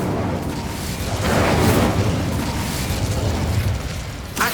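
The Incendio fire spell is cast in Hogwarts Legacy, a loud continuous roaring burst of flame that swells and stays dense for several seconds, ending with a short pop.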